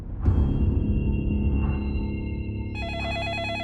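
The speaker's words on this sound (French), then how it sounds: "le téléphone sonne" A telephone rings at night, a steady electronic ring tone that holds for several seconds before switching to a higher warbling pattern, loud and close with no voices.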